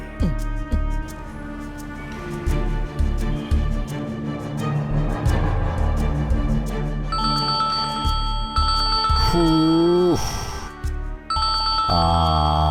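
A phone ringtone plays a looping electronic melody, loud and close, repeating steadily with a few brief breaks.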